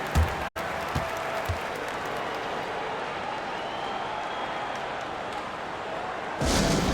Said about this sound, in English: Show some love and clap your hands.